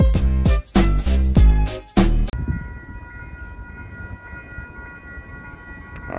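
Loud rumbling passage of an arriving Western Maryland Scenic Railroad train, locomotives 7471 and 1309, with heavy clanking bursts, then a steady mechanical hum and sustained tone as the noise settles.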